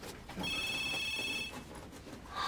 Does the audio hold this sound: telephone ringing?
yes